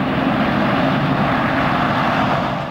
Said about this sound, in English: 6 Russian Yak 52s joined with 3 Nanchangs to create a 9-aircraft formation.